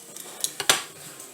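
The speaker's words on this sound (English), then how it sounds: "I'm just like mincing my garlic in my press" Fresh garlic pressed through a metal garlic press, a handful of sharp metallic clicks and clacks close by, ending in one louder squeeze-clack with nobody speaking.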